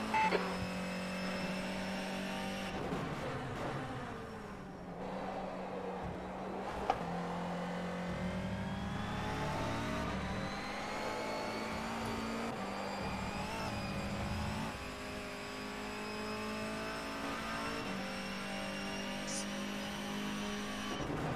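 A touring car engine in rFactor 2 revs and shifts through gears at Zhuhai, a steady near whine rising and dropping with each change, with occasional voices under it.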